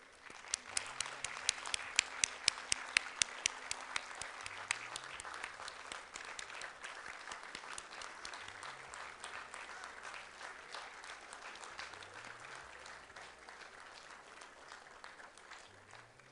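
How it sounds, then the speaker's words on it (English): Sustained audience applause as a graduating class gives a standing ovation at a convocation ceremony in New Delhi, dense clapping throughout with a few sharp louder claps near the start, steady and fairly distant-sounding. "May I now request the class of 2024 to give a standing ovation to"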